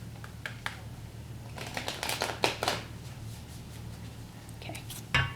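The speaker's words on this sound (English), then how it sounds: "it's so loud when I shuffle closer." Playing cards shuffle in clustered riffling bursts with scattered clicks, soft and close, against a quiet hum.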